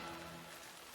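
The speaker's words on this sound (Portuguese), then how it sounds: "a chuva desabou por toda a noite" Steady rain falling on a surface, a dense even hiss with soft patter filling the short moment without pause.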